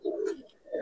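A male pigeon of a Giribaz or coloring breed coos close by in a loft: two low, throaty, rolling coo phrases split by a short pause.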